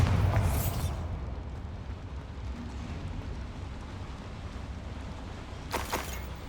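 A Bombarda spell blasts open in Hogwarts Legacy inside a small mine, with a loud booming burst at the start that rolls into a long rumbling decay, then a second, smaller crack near the end.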